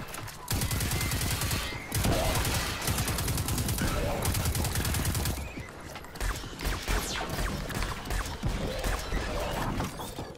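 Sniper and other gunfire in the video game Destiny 2: loud, rapid overlapping shots and bursts in a dense, continuous battle mix, easing slightly in the second half.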